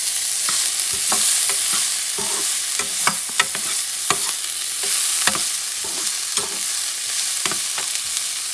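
Chopped garlic fries in olive oil as a base for Puerto Rican chicken spaghetti, a continuous close sizzle broken by repeated spoon scrapes and clicks against the pan.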